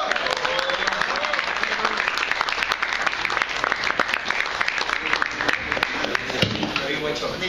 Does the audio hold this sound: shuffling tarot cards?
no